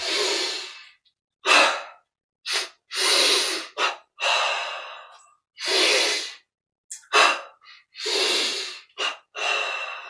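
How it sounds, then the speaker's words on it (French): A yoga-style breathing exercise of double inhalations and double exhalations: sharp sniffing inhales and long breathy exhales alternate in bursts separated by short silences, close and clear with no talking. "Inspire. Double inspire. Double expire vers le bas."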